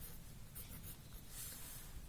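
Pen scratching on paper while writing out a trigonometry solution by hand: faint, continuous soft scraping strokes, close and quiet, with no voice.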